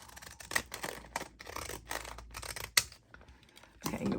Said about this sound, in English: What I need is my decal scissors to just cut across there